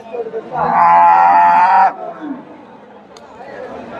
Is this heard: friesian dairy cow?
yes